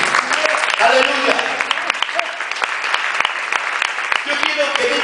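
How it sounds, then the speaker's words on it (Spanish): Strong applause from a church congregation during a sermon, dense clapping throughout with a voice briefly calling out over it near the start and again near the end. "¿Quiere dar un fuerte aplauso a Jesús?"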